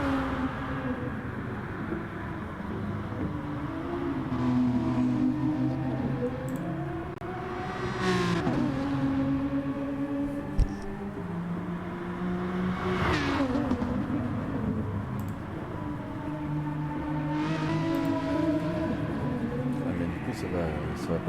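Race cars run one behind another on a circuit, their engines rising and falling in long whirring passes over a continuous motor drone, while commentators talk throughout.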